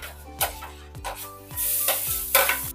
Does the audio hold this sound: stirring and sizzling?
yes